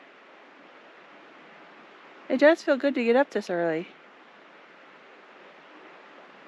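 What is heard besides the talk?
water flowing at Sycamore Falls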